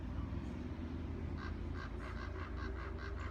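Birds call outdoors in a quick series of repeated, fairly clear notes that begin partway through, layered over a steady low background rumble.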